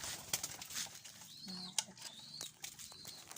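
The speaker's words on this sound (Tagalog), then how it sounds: "Ito naman yung dalawang inang mga kalapatids" Pigeons being fed, with soft, short coos and a few brief calls over faint patter and scattered background noise.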